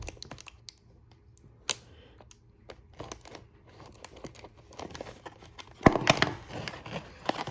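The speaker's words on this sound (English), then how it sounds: "So, we can actually start to peel the tapes off." Tape being peeled off the packaging of a U.S.S. Voyager model kit, quiet crinkling and sharp ripping snaps at close range, growing louder with a burst of tearing near the end.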